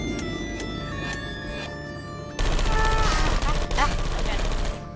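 Rapid automatic gunfire from a Portal 2 turret in the video game bursts in loudly and continuously over a humming game soundscape, with a player's voice talking alongside.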